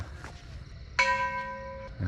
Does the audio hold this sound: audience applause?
no